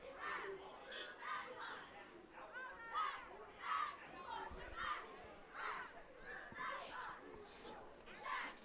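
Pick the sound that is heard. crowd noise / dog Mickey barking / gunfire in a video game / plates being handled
crowd noise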